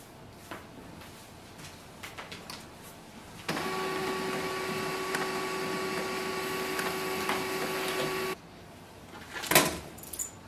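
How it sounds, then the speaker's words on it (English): An HP LaserJet M208dw printer powers through a restart cycle, giving a steady mechanical whir with faint tonal hums that runs for about five seconds between quieter room sounds, then stops abruptly, followed by a brief click. "Now your printer will switch off and it will restart after few seconds"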